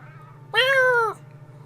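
A single clear, drawn-out cat meow from the video game Gato Roboto rises over a steady low hum.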